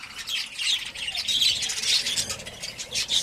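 Budgerigar chicks and adult birds in a breeding colony chirp and squawk in a dense, continuous chatter of shrill calls close by.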